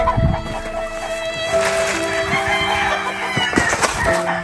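Chickens clucking near and far while a rooster crows, a lively farmyard mix of repeated clucks and a drawn-out crow, fairly loud and close with no talk.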